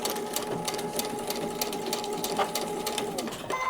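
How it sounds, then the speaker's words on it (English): A sewing machine stitching through paper-pieced quilt block fabric, running in a steady rapid whir with brief pauses for backstitching, close by and continuous over a quiet room hum. "Now we're simply going to stitch."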